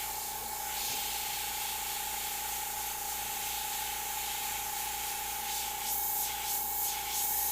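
An airbrush spraying paint for a freehand snake design gives a steady, close, continuous hiss with a faint tonal whine, swelling in brief bursts near the end; no one speaks.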